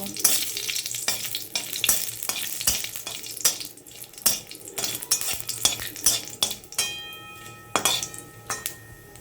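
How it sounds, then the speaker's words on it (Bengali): Dried red chillies and Bengali five-spice seeds fry in a little oil for a sour-sweet jujube chutney, with a sizzling hiss under frequent sharp scrapes and clinks of a spoon stirring against the pan, close and uneven in rhythm. "এরপর ওই তেলে আমরা শুকনো লঙ্কা আর পাঁচ ফোড়ন ফোড়ন দেব ফোড়নটাকে আমরা হালকা ভেজে নেব"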